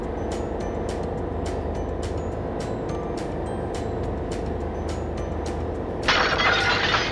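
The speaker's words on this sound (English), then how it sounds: "there goes everything off the kitchen counter" Kitchen items and glasses slide off a counter and smash aboard a boat rocking through rough water: a sudden loud crash and clatter near the end, over a steady rumbling engine drone.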